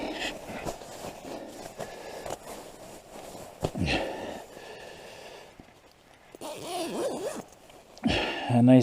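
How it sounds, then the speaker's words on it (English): A bag's center zipper is pulled along in a few rasping runs, close and fairly loud in a cold winter camp, with sniffs and breathing between the pulls. "Center zip."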